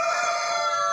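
A black Cochin rooster crows at a national poultry exhibition at Romexpo, delivering one steady, loud, close crow that fills the moment with no talking.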